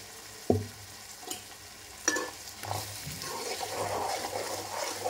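Chicken curry with salt and turmeric being stirred in a hot pan, with a soft sizzle under scattered clinks and scrapes of a spoon against the metal; the stirring comes in short bursts, close and moderately loud.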